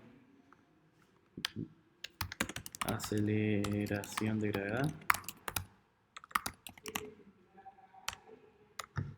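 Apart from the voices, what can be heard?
typing on a computer keyboard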